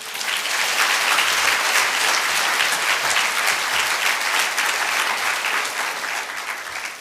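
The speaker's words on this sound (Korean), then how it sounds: "나오실 때 뜨거운 박수로 격려하시고 환영하시겠습니다." A congregation at a church special meeting gives warm, continuous applause to welcome the guest speaker, a full, even roar of clapping from a large crowd that fades slightly at the end.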